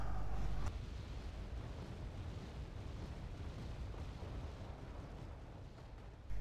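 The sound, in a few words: AS-90 artillery firing in the video game Wargame: Red Dragon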